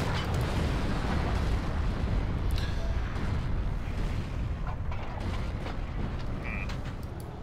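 Heavy rumbling artillery in the WWII shooter Forgotten Hope 2, a continuous low roar of booms and creaking mechanical noise with scattered sharper cracks, loud and sustained throughout.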